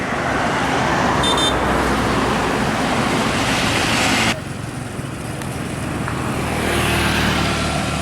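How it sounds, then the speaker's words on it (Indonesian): Big and medium buses roar past on a road in Tebo, Indonesia, in a loud, steady rumble that drops suddenly midway, then swells again as more traffic approaches. "Big bus dan medium bus ya."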